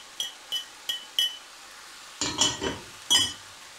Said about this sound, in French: on va pouvoir verser les poivrons directement avec la garniture